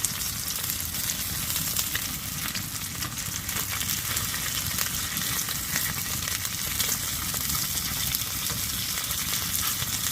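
Food sizzling and frying in a pan with garlic oil on a stove inside a camping hot tent, a steady close crackle throughout with no talk.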